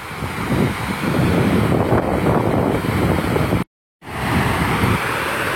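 The Progo river flows beneath an emergency embankment as a loud, continuous rushing roar mixed with heavy wind buffeting on the microphone, broken by a brief cut to silence.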